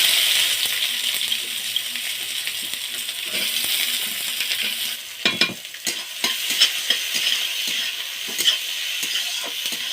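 Chopped onion frying in hot oil with bay leaf and dried red chilli for a crab curry, a dense steady sizzle joined later by spatula scrapes and clinks against the pan.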